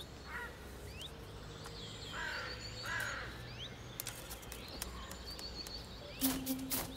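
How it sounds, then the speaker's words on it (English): Storks squabble at their high nests in a zoo enclosure, harsh cawing and clattering calls coming in bursts over steady outdoor background noise, with a louder flurry near the end. "The storks quarrel amongst themselves instead."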